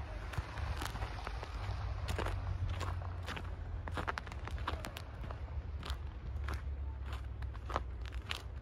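Footsteps in boots crunch on fresh snow during a cold morning walk in England, a steady series of close, crisp crunching steps over a low background rumble.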